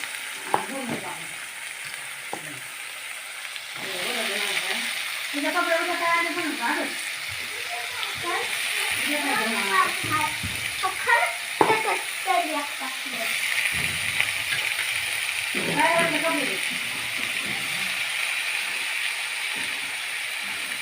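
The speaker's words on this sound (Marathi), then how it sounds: "याच्यामध्ये मी आता टाकणार आहे ही भाजी सगळं पूर्ण भाज्या तेलात अगोदर थोडंसं वाफून घेणार आहे" Mixed vegetables sauté in hot oil for Bhogi bhaji, a continuous sizzle with occasional stirring scrapes while someone talks over it throughout.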